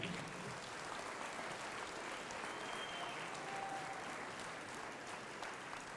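Sustained applause from an audience at a college hall of fame ceremony, welcoming the 1958 football team on stage; steady, dense clapping that holds evenly throughout with no talk over it.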